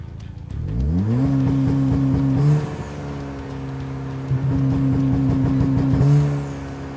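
A Ford car engine with COBB tuning revs up quickly from idle and holds steady against the fuel cut launch limiter, a loud, close, buzzing drone with brief stutters where the limiter cuts in.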